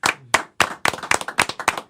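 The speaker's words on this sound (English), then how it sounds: "Clap it up, clap it up" A few people clap briefly in a studio. The claps are sharp and close, landing in quick irregular bursts with short gaps between them.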